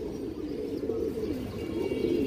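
A white-bodied, green-necked pigeon with dark-ringed eyes gives a low, continuous, murmuring coo close to the microphone, fairly quiet and alone, with no voices.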